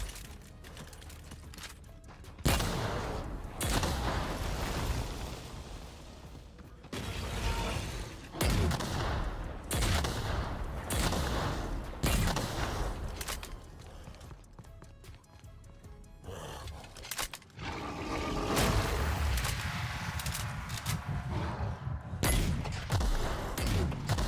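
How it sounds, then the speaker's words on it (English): A grenade launcher fires in The Outer Worlds amid heavy combat, with repeated loud bursts and explosions spread across a long stretch, mixed with other gunfire and clattering game effects. "I have another grenade launcher."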